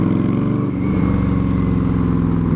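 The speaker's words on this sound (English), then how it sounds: "Now it sounds like a muscle bike" Victory Octane motorcycle fitted with an RPW full exhaust, revving close and loud, its deep throbbing engine rising and falling through blips over a steady rumble.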